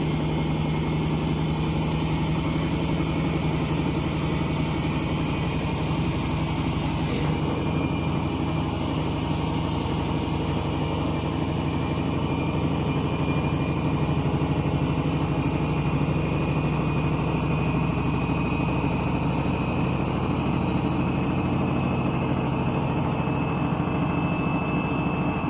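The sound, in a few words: washing machine spinning with worn-out bearings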